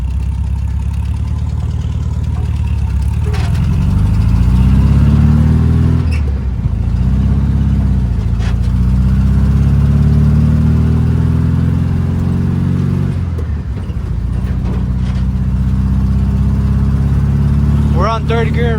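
A small car engine driving and accelerating through the gears, a loud, close low drone rising in pitch with each gear, dipping briefly at the shifts, with someone talking over it.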